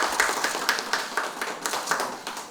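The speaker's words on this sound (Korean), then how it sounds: "자, 박수 한번 쳐주세요." A small group claps at a political party's spokesperson appointment ceremony, a sparse, quick run of distinct claps at close range that ends abruptly.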